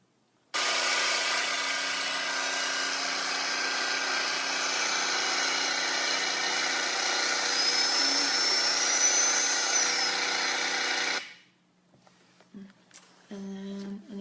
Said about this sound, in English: A video of me actually plugging in a power tool